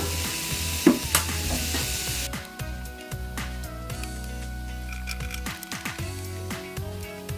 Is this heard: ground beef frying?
yes